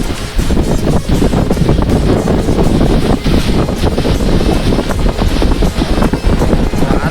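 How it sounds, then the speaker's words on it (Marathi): Loud, constant roar of strong wind buffeting the microphone on a rough sea during net fishing, with rushing water and waves underneath and no break for the whole stretch. "जाम आहे रे वाऱ्याचा आवाज"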